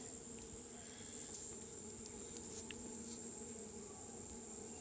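A steady, faint hum of honey bees buzzing inside the hive of a captured swarm a week after capture, continuous and even with no talk.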